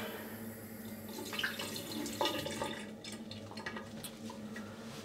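Tap water running into a sink to rinse after shaving, a steady, fairly soft stream with small splashes and drips, heard up close with no talking.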